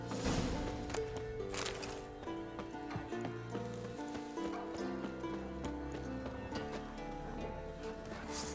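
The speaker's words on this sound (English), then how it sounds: "That's his horse." Horse hooves clip-clop in a steady rhythm under a layer of music in The Witcher 3, with a brief whinny early on and a soft, distant quality throughout.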